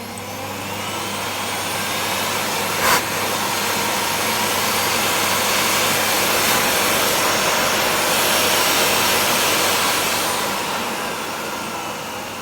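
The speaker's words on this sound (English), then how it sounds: "it sounds like the turbo brush works" A Miele S5260 or S8 vacuum cleaner with a turbo brush runs loudly and steadily with a high, whooshing whine, alone and close, the tone shifting slightly as it works.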